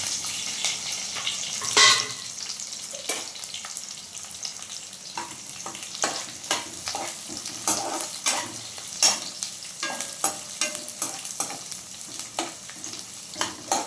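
Goat spleen stir-fried with onion, green chilli and curry leaves, scraped and stirred in a pan: a steady low sizzle broken by frequent sharp spoon-on-pan clatters, close and fairly loud, with no talking.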